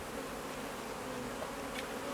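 Honey bees at an urban beehive, a dense continuous buzzing hum from many insects close by, steady and unbroken with no voices.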